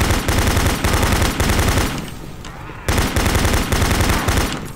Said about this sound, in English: He's only shooting one rocket.